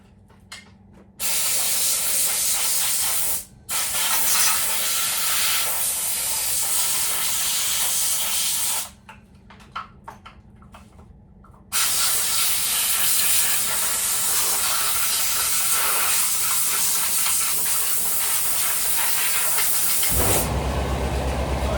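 Compressed air from a hose blasts debris off a Husqvarna 55 chainsaw in loud, sustained hissing bursts with short pauses and a few quiet clicks between them.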